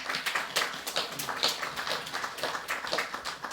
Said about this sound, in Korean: 우리 박수 한번 쳐주실래요?